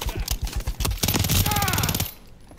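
An RPK light machine gun in Call of Duty MW3 fires one loud rapid burst after another, close and continuous, for about two seconds before it cuts off.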